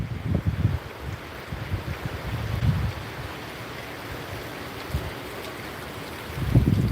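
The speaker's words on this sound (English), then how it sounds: "I hear a ton of wind above me, but I'm not feeling a whole lot of wind." Strong hurricane winds roar high overhead during a storm at a hilltop homestead, a steady broad rushing with heavier low gusts and buffeting near the start and again at the end, with no voices.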